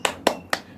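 A primary class in Indonesia doing the 'tepuk semangat' rhythmic clap, three sharp evenly spaced claps close by, crisp and separated by short quiet gaps.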